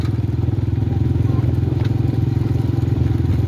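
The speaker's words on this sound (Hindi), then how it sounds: "अभी मशीन में सिलाई हो रही है इस तरह से" A sewing machine stitches a cotton quilt mattress, making a steady, loud, rapid mechanical chugging with a regular fast beat throughout, close by, with faint background noise.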